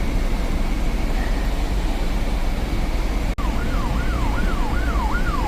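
A police car siren in Jerusalem wails in a steady rising-and-falling pattern over constant loud traffic rumble, with the siren starting faintly and becoming clearer and more regular after a sharp click midway.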